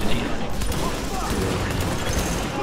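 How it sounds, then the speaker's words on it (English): Sustained gunfire in the shooter game The Division during a mission at Grand Central Station: dense, continuous rattling shots that fill the whole short stretch, with voices mixed in beneath. "Reporting gunfire in the station above us."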